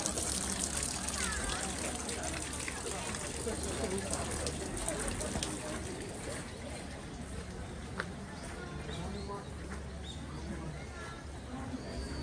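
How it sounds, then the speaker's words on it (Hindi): Water trickles steadily into the hand-washing basin at Hirota Shrine in Hyogo, Japan, a continuous close splashing dribble with faint voices nearby. "दोनों हाथ धुल लेते हैं।"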